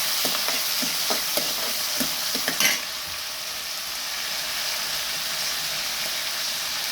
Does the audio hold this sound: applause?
no